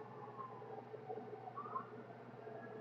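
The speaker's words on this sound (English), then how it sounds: "Oh, there's an ambulance." A faint ambulance siren wails in the distance, its tone rising and falling over low background hum.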